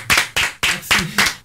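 A few loud hand claps in a steady rhythm, close and distinct, from a studio audience at a live French hip-hop show applauding a rapper.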